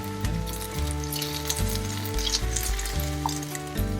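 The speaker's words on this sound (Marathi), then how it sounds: "हे मीडियम गॅसवरच म्हणजे फायरवरच तळायचे, म्हणजे आतून पण चांगले भाजले जातात" Snacks deep frying in hot oil over a medium flame, a steady bubbling sizzle that runs continuously, with a low tonal hum from the kitchen underneath.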